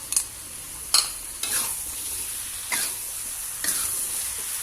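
A utensil scrapes around a wok in about five separate strokes, each a brief rasp, over a low, steady sizzle of capcay vegetables.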